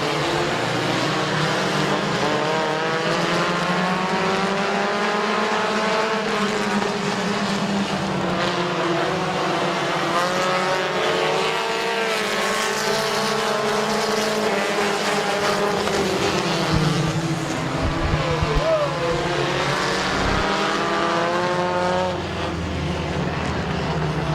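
Compact race cars roar around Midvale Speedway in a continuous, loud engine drone, several cars rising and falling in pitch as they pass through the turns, with no gaps in the noise.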